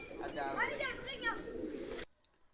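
Pet pigeons in a rooftop loft coo softly beneath a man's close, loud talking, and the sound cuts off abruptly near the end, leaving near silence.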